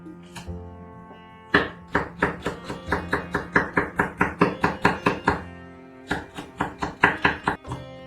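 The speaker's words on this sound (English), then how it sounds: "Let's cut spring onion first." A knife chops spring onion on a cutting board in a home kitchen: a brisk, regular series of sharp, close knocks, about twenty-five strokes, with a short pause near the start and another gap before a final burst, no speech.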